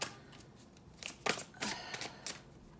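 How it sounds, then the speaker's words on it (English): Tarot cards are shuffled casually by hand, giving several close, crisp riffles and flutters in quick bursts, quiet and with no talking. "I was trying to like just casually shuffle these, and they just kept trying to pop out"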